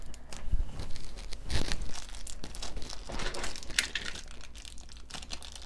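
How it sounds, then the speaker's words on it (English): Plastic packaging being cut and crinkled off a CALPAK work bag, with close, quiet rustling, tearing and crumpling throughout and a few sharper snips. "try to cut all this extra packaging off."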